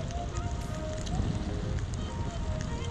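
Steady wind buffeting outdoors on a mountainside with light rain, a continuous broadband rush and rumble of gusts against the microphone, fairly loud and unbroken, with no talking.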